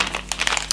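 Plastic baby wipes package crinkling as it is handled for cleaning a luxury handbag, giving short close rustling bursts with no talk.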